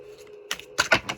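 Tarot cards are shuffled in a few quick papery riffles and taps, close and crisp, in short bursts against a quiet background.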